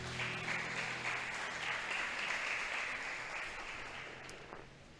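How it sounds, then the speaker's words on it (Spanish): A church congregation claps for a few seconds, a soft, steady wash of hands heard from a distance over a low hum, tapering off at the end. "Vamos a darle un grande aplauso al Señor"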